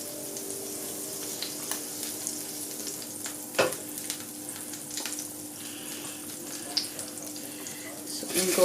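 Mieliepap cakes fry in butter in a pan with a steady, close sizzle and crackle throughout, broken by a few clatters of a utensil or pan being handled.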